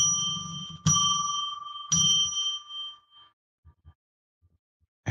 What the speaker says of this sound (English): let's pull back the curtain on the magical window by ringing a bell 3 times to declare sacred